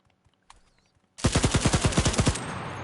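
Machine gun fire in the video game CRSED: a short faint blip, then one loud, rapid burst of about a dozen evenly spaced shots that ends abruptly.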